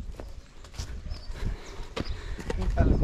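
Irregular hoof clip-clops on hard ground, close by, with a mare shifting and stamping amid background noise.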